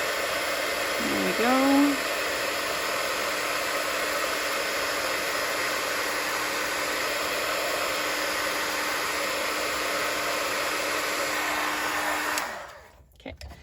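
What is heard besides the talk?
heat tool melting embossing powder on a paper card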